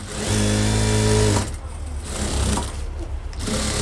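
A sewing machine stitches elastic onto a pair of school trousers, running in one steady loud whirring burst for over a second before stopping, leaving quieter handling noise.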